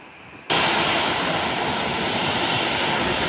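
An American Airlines Boeing 737-800 departing San Juan for Miami gives a loud, steady jet engine roar that cuts in abruptly and holds at full strength throughout.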